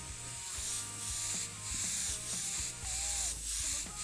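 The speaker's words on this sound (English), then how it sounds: "So I am concentrating my spray on the inside of the fish scales and not the outside." Spray paint hisses from a can in pulsed bursts while laying down a fish scale fade pattern, with a few repeated loud sprays separated by brief pauses and no voices.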